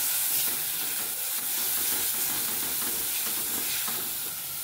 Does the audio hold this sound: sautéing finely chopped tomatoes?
yes